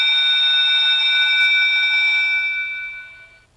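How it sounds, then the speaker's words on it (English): Arrival alert alarm from the My Stop app on a Windows Phone 7 handset: a loud, steady electronic ringing tone held for about three seconds, then fading out, with no voices. "500 meters away, it'll start the alarm that we're about to reach the station"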